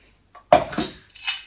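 A Monsen 750 camping pot with lid is handled, giving a few short metallic clanks and scrapes close up, with a sharp knock followed by lighter rattles of the lid.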